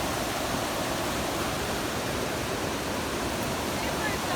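A rain-swollen river churns in a constant, dense wash of rushing water, loud and near, with no voices breaking through the steady roar.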